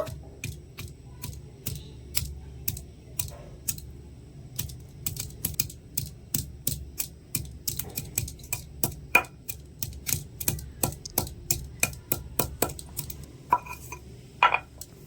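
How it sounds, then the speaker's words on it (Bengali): Ginger and green chilli get crushed in a kitchen, a steady run of sharp knocking taps at close range, quick and fairly even, with no voices over it. "আদা আর কাঁচা লঙ্কাটাও খুব সুন্দরভাবে থেতে করে নিয়েছি"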